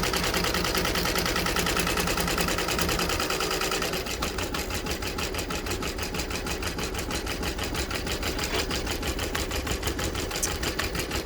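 A Bai embroidery machine stitches a thread tension test, its needle hammering in a fast, steady mechanical rhythm with a motor hum, loud and continuous throughout.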